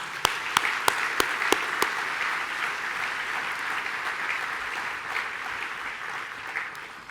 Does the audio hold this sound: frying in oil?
no